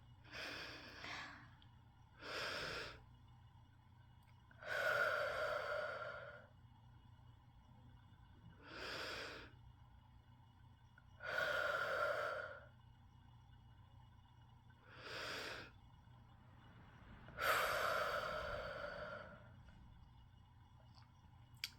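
Three slow, deep breaths taken during a quiet writing session, each a soft inhale followed by a fuller, louder exhale, evenly spaced and close up with no talking.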